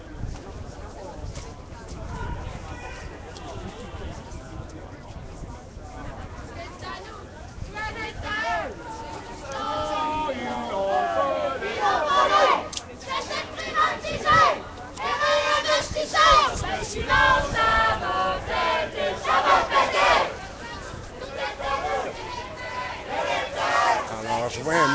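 A group of student protesters approaching at a street demonstration, crowd chanting and shouting that swells from faint to loud and rhythmic, with several voices close by.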